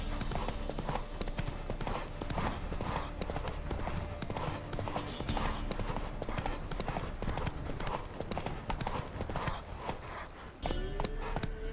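Horse hooves clip-clop in a steady trotting rhythm throughout, in The Witcher 3 video game, with faint background game sounds and a brief shift near the end.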